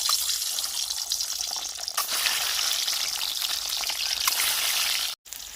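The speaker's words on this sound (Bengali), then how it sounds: "এবার ডিমগুলো ভেজে নেবেন" Duck eggs fry in mustard oil in a wok with a steady, close crackling hiss that holds throughout and cuts off briefly near the end.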